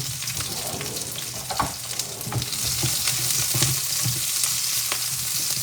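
Jackfruit simmers with coconut milk and anchovies in a pan, giving a steady close sizzle and bubbling broken by occasional stirring clatters and scrapes, with no voice.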